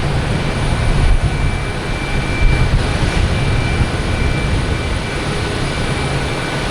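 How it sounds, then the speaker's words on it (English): A JetBlue Airbus A320 arriving at Boston Logan from Orlando gives off a steady, rumbling jet roar, loud and constant with a thin high whine above it. "Next arrives the JetBlue coming in from Orlando. A320."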